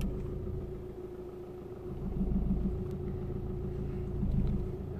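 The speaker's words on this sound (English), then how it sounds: "so the engine is running" An Audi A3's engine idles steadily, a low continuous rumble that swells slightly at moments, with no speech over it.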